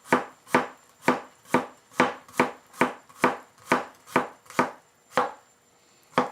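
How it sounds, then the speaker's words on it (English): Unpeeled ginger chopped on a cutting board with a knife, about a dozen sharp, evenly spaced chops, close and crisp with no talk. "so I'm just going to like chop it up"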